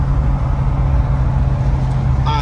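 A 2023 Dodge Charger Hellcat Redeye drives along with a loud, steady low engine drone and road rumble from inside the cabin, and a brief higher whine rises near the end.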